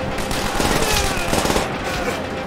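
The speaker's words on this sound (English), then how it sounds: "What the heck are you shooting?" Dense, continuous automatic gunfire rattles through a Call of Duty: World at War battle, loud and close throughout the short burst.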